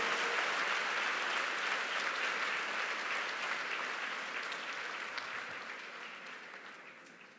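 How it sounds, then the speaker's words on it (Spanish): A church congregation at a Chilean prayer vigil applauds the choir, dense steady clapping from many hands that fills the room and slowly tapers off toward the end. "Le damos un aplauso al coro"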